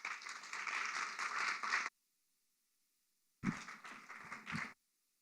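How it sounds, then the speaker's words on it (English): Applause welcoming a speaker at a women's entrepreneurship event, two separate bursts of quiet clapping divided by a brief silence, the second burst shorter and more uneven. "with a big round of applause"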